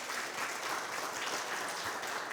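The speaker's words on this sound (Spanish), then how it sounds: "Gócense, amén, denle un aplauso." Congregation applauding inside a church during a Spanish-language worship service, a steady dense wash of clapping filling the whole short stretch at moderate level.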